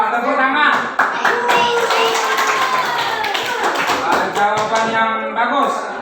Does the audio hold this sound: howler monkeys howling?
no